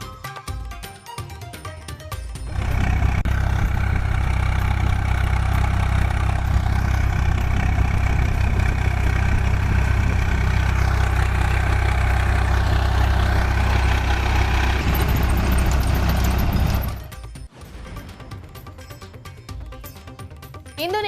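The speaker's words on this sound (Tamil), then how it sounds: "தர்பூசணி பழங்களை விளைநிலத்திலேயே டிராக்டர் மூலம் அழித்த விவசாயி" Tractor engine in a watermelon field, a loud, steady low rumbling drone running for about fourteen seconds before cutting out, with quieter background sound before and after.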